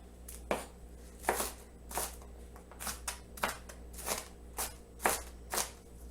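A knife dices a large onion on a cutting board in a home kitchen, landing in a steady series of crisp, close chops about every half second over a faint background hum.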